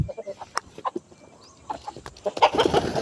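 A rooster clucks around a farmyard in a string of short, separate clucks at close range, with a louder, busier burst of calls near the end.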